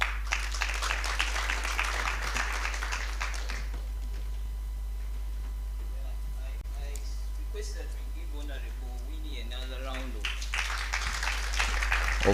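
Audience at the PHEGEC 2023 conference claps after a speech ends; applause fills the opening seconds, fades under someone speaking, then swells again briefly near the end.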